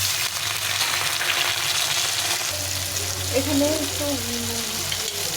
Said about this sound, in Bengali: টমেটো ভেজে নিয়েছি, আলুটা লাল লাল করে ভেজে নিয়েছি।